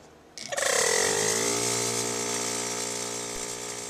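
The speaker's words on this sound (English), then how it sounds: "now we're going to turn on our compressor to fill our tank for the needed air supply" An electric air compressor starts up abruptly and runs loudly and steadily, filling the air tank of an air horn kit with a continuous whining mechanical drone.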